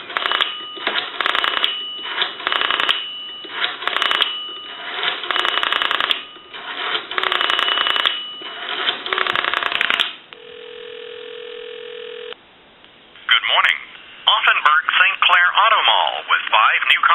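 Touch-tone dialing and line noise on a Northern Electric N233H three-slot payphone, a steady dial tone, then a recorded voice reading out time and temperature over the phone line.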